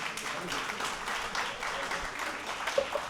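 Church congregation applauding, a steady, fairly soft wash of many hands clapping at a distance that runs without a break for a few seconds, with faint voices mixed in.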